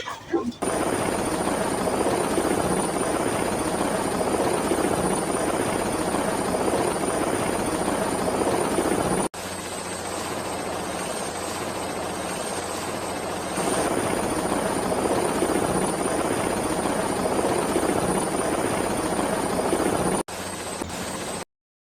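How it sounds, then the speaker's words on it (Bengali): A helicopter drones loudly and steadily throughout, its rotor and engine noise filling the scene, with a brief cut partway through. "একটা হেলিকপ্টার শুনলেন"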